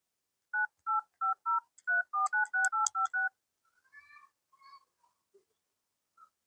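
Phone number dialed on a mobile, a quick run of about eleven touch-tone beeps in steady rhythm, followed by a few faint short electronic tones, close and clear with no talk.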